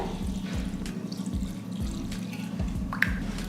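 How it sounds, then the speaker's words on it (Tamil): Cold water pours steadily over vermicelli to rinse it, a continuous splashing flow with rhythmic gurgling pulses, close and moderately loud, with no talking. "பச்சை தண்ணி தான் ஊற்றுறேன்"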